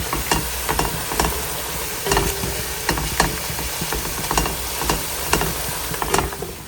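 Onions frying until brown in a pan, a low sizzle broken by rhythmic scraping and stirring strokes from a utensil, close and steady with no voices.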